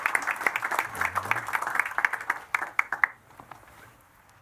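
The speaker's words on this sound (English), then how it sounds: "please, let's give a nice round of applause to our panel" An audience applauds a discussion panel at the Tallinn Digital Summit 2025, a dense burst of hand clapping that thins out and stops after about three seconds.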